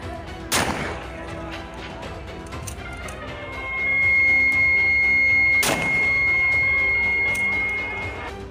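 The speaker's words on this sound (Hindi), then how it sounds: "लाल कुर्ता पहना शख्स एक के बाद एक 2 फायर करता है" Two loud gunshots crack out several seconds apart, celebratory firing at a crowded pot-breaking contest, with a busy crowd murmuring and a steady whistle-like tone in the background.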